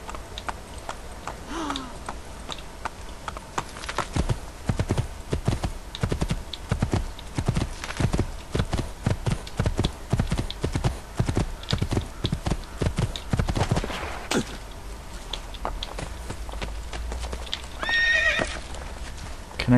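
A horse in the video game Assassin's Creed II clip-clops in a steady, rapid trot for most of the stretch, with a loud neigh near the start and another whinny toward the end; no talk over it.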